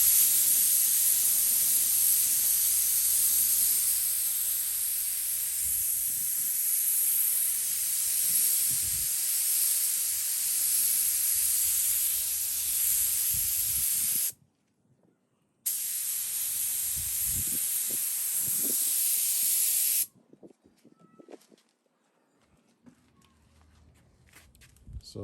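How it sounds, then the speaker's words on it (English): An airbrush sprays light coats of silver paint onto a model car body, a steady close hiss that runs continuously, cuts out briefly, resumes, then stops, leaving faint handling noises. "Now we're just going to blow some air over it and start with some light coats of silver"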